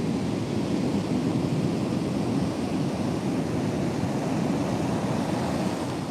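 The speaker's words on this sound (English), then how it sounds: "the waves are chasing her up the beach" Ocean waves wash continuously onto a beach in a steady, broad rushing roar with gentle swells, moderately loud and unbroken by voices.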